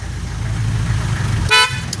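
A car horn honks in one short, loud burst near the end, cutting over a steady low rumble of an idling vehicle parked in front of officers' quarters.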